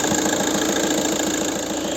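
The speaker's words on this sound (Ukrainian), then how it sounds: "Ці двигуни насос форсунка такі трохи шумні" A 2010 VW Touran 2.0 TDI pump-injector diesel engine idles steadily with a dense, rattly mechanical clatter and continuous hum, no voices present.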